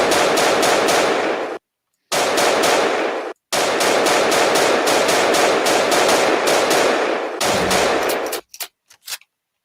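Loud automatic gunfire in a shooting video game rattles in long sustained bursts, broken by brief silent gaps, ending in a few scattered single shots.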